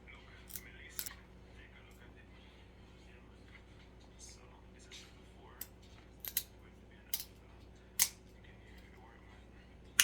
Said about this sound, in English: It's my kitchen scissors.